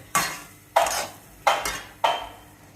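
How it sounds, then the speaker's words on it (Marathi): A spatula scrapes and stirs ingredients being dry-roasted in a pan, giving four evenly spaced scraping strokes at close range with no talk. "असं कंटिन्यूस भाजून घ्यायचं"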